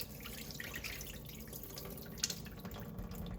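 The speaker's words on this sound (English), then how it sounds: "Slowly run your fingers just to make sure that all the bulgur is being washed." Soft, steady swishing and trickling of water as bulgur is washed by hand in a bowl, fingers moving slowly through the grains, continuous and close with a faint drip-like splash.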